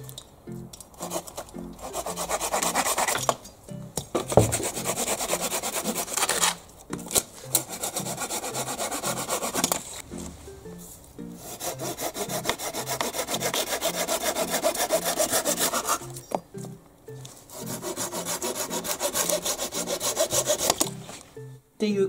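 Japanese pull-type pruning hand saw (Gomboy) cutting through wood, with steady repeated rasping strokes in bursts separated by short pauses, close and fairly loud with no talking.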